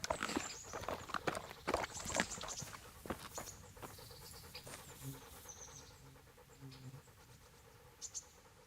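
Dog panting in the medieval game Kingdom Come: Deliverance, quick rhythmic breaths mixed with hoof clip-clops and scuffling at the start, fading to a quieter background toward the end.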